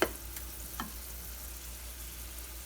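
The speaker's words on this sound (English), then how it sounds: "So we're sauteing away" Carrots sauté over medium heat in a pan, giving a steady, faint sizzle with a soft clink near the start and another small tap partway through.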